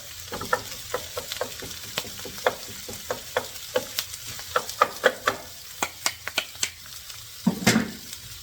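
Stir-fry noodles tossed with ginger, garlic, chili and sesame oil clank against the pan in a steady series of sharp knocks over a constant close sizzle.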